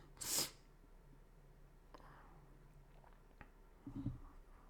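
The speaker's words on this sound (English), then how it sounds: "I just sneezed if y'all didn't see." A single loud, sharp sneeze at the start, followed by quiet room noise and a brief soft rustle near the end.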